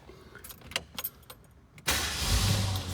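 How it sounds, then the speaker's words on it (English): A 1973 Ford Bronco Ranger with stock single exhaust cranks with the key and fires up, settling into a steady, fairly loud run after a few quiet clicks and rattles. "Fires right up and turn the key."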